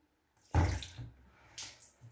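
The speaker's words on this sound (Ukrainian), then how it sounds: "Водичка тече, водичка тече" Tap water gushes briefly outdoors, a short splashing burst that starts abruptly and fades, fairly faint with no one speaking.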